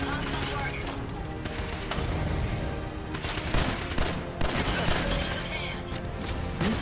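Sustained, dense gunfire in the Fallout 4 video game, loud and continuous with rapid overlapping shots and bursts filling the whole stretch, while a voice talks underneath.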